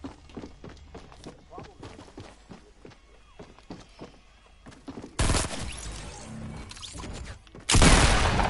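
Gunfire in a shooting video game: rapid bursts of shots and running footsteps, then loud, dense blasts of fire, while a voice talks over it.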